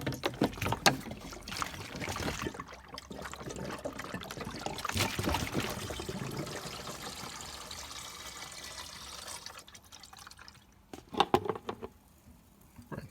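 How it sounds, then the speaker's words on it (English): Rainwater is poured to fill a Mk1 Golf, a continuous splashing trickle and gurgle of water up close for about ten seconds, then fading to a few sloshes and knocks. "now we're going to fill it with water."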